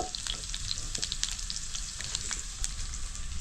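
Garlic dropped into hot oil with cumin and mustard seeds in a home kitchen pan, a loud continuous sizzle and crackle with occasional stirring scrapes, close up, no voices.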